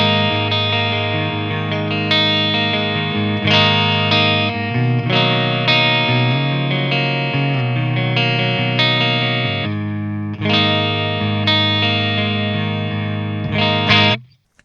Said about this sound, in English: That is a nice, chimey, bright, clean tone.